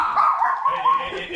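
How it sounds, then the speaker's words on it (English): A small dog gives short yips and whimpering barks close by, with people talking over it. "Chico, crazy dog"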